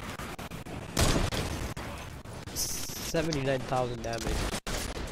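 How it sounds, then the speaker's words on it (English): Sniper rifle shots ring out in Fortnite Save the World during a Plankerton storm shield defence: sharp gunfire bursts and game effects sit beneath ongoing talk. "How do I keep missing all these sniper shots?"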